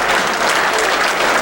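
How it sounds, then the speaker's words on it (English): Sustained audience applause fills a hall at the 1995 US Open 9-Ball Championship, a dense, even clapping crowd heard close and loud without voices. "The applause you hear is for Earl Strickland"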